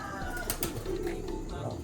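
Racing pigeons cooing in a loft, soft low throaty coos over a constant background hum and rustle, close and brief.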